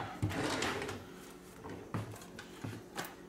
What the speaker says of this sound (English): Wrong drawer.